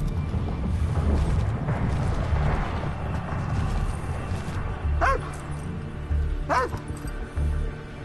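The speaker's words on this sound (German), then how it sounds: "Ein bisschen bellen jetzt mal gut." A dog in the video game Call of Duty Ghosts gives a few short, sharp barks and yips over a rumbling game background, two clear bursts near the end.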